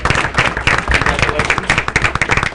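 Applause at a school board of education meeting for staff members standing to be recognized, a loud, close burst of many hands clapping with a brisk, uneven rhythm that carries throughout.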